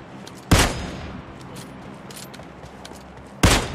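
Two loud, sharp gunshots from the PUBG Lite video game ring out about three seconds apart, over a quiet background of soft game noise.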